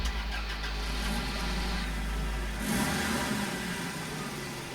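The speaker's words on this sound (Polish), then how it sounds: "Auto samo jedzie." A driverless car rolling along a street in the horror game Cry of Fear: a steady mid-pitched engine drone with a low rumble that shifts and surges partway through, fairly close and continuous, with no talking.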